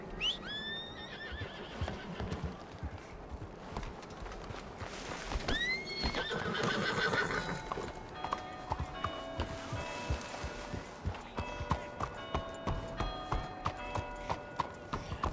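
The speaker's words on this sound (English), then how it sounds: "Let's go get our horses out." Horses in a ranch roleplay video game whinny loudly several times, and hooves clip-clop in a steady beat through most of the stretch, with game chimes and tones near the end.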